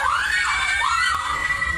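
A recorded scream in a haunted hotel rises and wavers in loud, shrill, drawn-out wails, close and harsh with no other voices.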